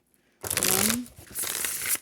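Tarot cards are shuffled twice in quick succession, a crisp rustling flutter that sounds close and moderately loud.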